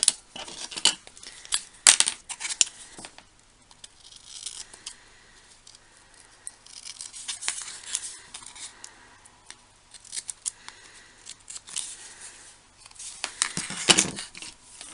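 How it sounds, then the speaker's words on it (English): Scissors snip and trim the edges of paper while making a card, in several bursts of close, crisp cutting with quiet pauses between them. "Okay, so I'm just going to trim off these edges."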